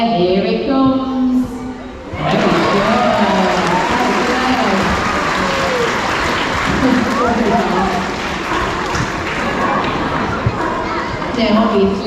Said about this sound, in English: do give him a big round of applause for us